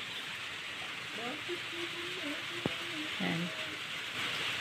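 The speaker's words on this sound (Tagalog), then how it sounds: "Ulan-ulan talaga." Heavy rain falls on a farm, a steady broadband hiss running throughout, with a person speaking briefly over it.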